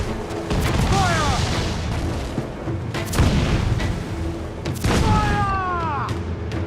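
Cannon fire from ships in an Assassin's Creed 4 Black Flag naval battle, heavy booms around 1, 3 and 5 seconds with whistling projectiles, over steady sea-battle noise and shouting crew.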